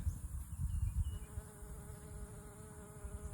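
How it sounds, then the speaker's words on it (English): Bees buzz among mullein plants on a farm in late September, with a steady low drone from several insects close to the microphone and no speech. "Look at the bees, just having a fun time."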